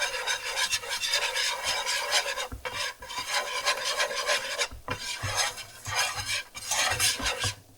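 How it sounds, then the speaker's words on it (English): A whisk scrapes briskly around a pan of mac and cheese sauce, a rapid rasping, rubbing rhythm close by with short pauses between bursts and no voices. "And you want to whisk that together"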